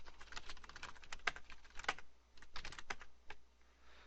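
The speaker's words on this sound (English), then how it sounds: "then you start typing" Quick, uneven clicks of fingers typing on a computer keyboard, close and fairly quiet, in irregular bursts with short pauses and no talking.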